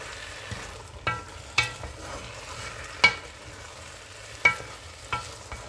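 Matembele cassava leaves cooking in oil in a pot without water, a low, soft sizzle punctuated by half a dozen distinct utensil scrapes and taps at uneven intervals, close and quiet, no talk.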